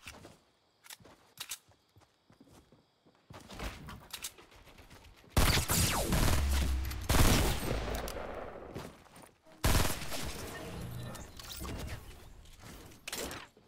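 Rapid SMG gunfire in a video game shooter match, bursts of shots crackling loud and close alongside footsteps and clanking mechanisms, with quieter gaps between volleys.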